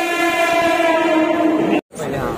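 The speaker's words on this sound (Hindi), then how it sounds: "ट्रेन आ चुके हैं एंड अभी हम लोग जा रहे ट्रेन में।" A Mumbai local train rolls into the station, its loud steady rumble and harmonic horn-like tones filling the scene, then cutting off abruptly near the end before the noise resumes.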